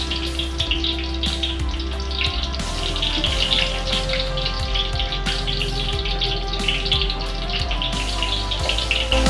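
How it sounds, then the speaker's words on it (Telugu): Green chilies sizzle in hot oil in a home kitchen, a steady close crackle and spatter with small pops running throughout. "సో ఆయిల్ హీట్ అయింది, కాస్త పచ్చిమిర్చి వేసుకున్నాం"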